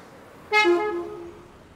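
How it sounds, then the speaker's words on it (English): A single loud, brassy car horn honk close by in Hanoi, Vietnam, lasting under a second before fading into quiet street ambience. "Vietnam is the only place in the world I've been to that has that kind of a car horn."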